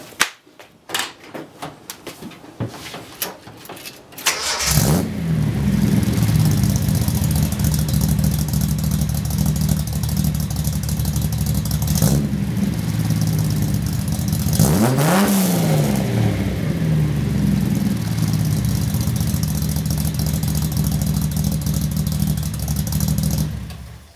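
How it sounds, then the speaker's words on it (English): A car engine with a 6-into-1 header cranks over and catches, then settles into a deep, loud rumbling idle through a Magnaflow cannon-style muffler and Vibrant resonator, with two sharp revs partway through. "it's really nice to hear another 6-into-1 header going straight into a cannon style muffler"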